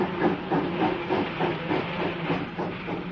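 A steam train hisses at a station in a steady, breathy rush with a faint rhythmic chuffing pulse beneath, continuous and fairly close, with no voices.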